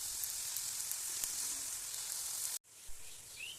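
Chopped spinach hits a pan of fried green chillies along with soaked lentils, making a quiet, even sizzle that stops abruptly near the end.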